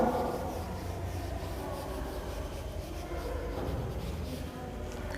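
Steady rubbing and scraping of an eraser or cloth wiping handwriting off a classroom board, continuous and fairly quiet throughout.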